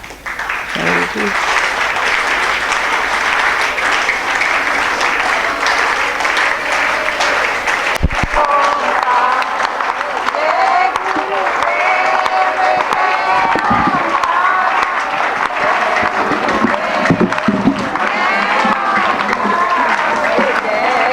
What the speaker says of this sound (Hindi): ताली मार के जाप करके दिखाओ मुझे।